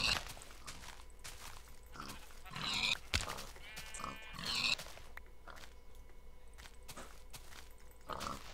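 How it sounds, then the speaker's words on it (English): Minecraft pigs grunt and oink in short bursts amid game footsteps and crunchy block sounds, moderately loud and spread across the scene, with a few scattered squeals. "Oh, look at all the piggies over there."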